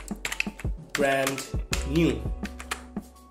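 Keystrokes on a computer keyboard while text is entered in Photoshop, a handful of quick clicks scattered among a man's speech.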